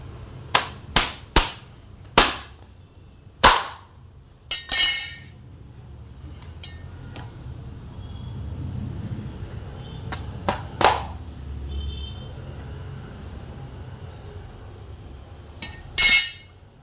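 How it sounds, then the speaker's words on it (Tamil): Sharp knife chops through raw green mangoes, with a series of crisp impacts and clinks, clustered in quick bursts at the start and scattered later, close and fairly loud over a low background hum. "இப்போ அதே போல் எல்லா காயும் கட் பண்ணிடலாம்"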